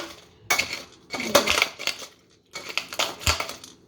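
Coarse crushing of dry-roasted peanuts for sesame-jaggery laddoos, heard as irregular bursts of crunching and scraping clatter in several bunches, close and fairly loud, with short pauses between.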